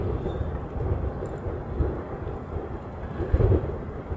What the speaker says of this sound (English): this is our third Japan Airlines coming in today. This is another Dreamliner. It's coming in from Nagoya